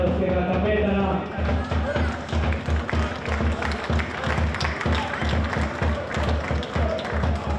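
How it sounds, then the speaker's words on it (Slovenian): Football spectators at a Slovenian second-league match between Primorje and Tabor Sežana applaud a substituted captain leaving the pitch. The steady, moderately loud clapping is dense and rhythmic, with a voice briefly audible at the start. "aplavz za ruskega kapetana"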